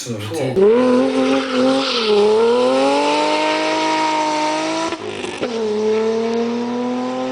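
A car engine revs loud and close, its pitch rising and falling through sustained runs with a brief dip near the five-second mark, while tyres squeal faintly beneath.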